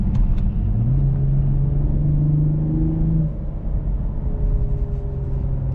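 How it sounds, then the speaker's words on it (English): The V6 of a 2024 Lexus IS 350 F-Sport revs in sport mode, a loud grunty engine note climbing in pitch before dropping back to a steady rumbling idle, heard from inside the cabin. "it's a grunty sounding V6"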